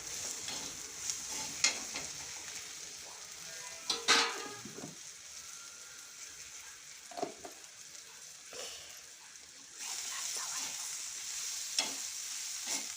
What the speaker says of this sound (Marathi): अंडा फोडून टाकेन मी आता.